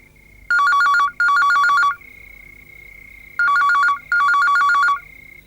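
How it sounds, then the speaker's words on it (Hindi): A telephone rings in two double bursts of electronic trilling, separated by a pause, over a steady faint tone. "इतनी देर से फोन बज रहा है, उठा क्यों नहीं रही हो?"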